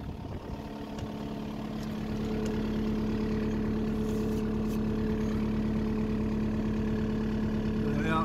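A 2014 Kubota U55-4 5.5-tonne rubber-tracked digger runs its diesel engine close by in a steady, droning idle that swells slightly louder after the first couple of seconds and holds even.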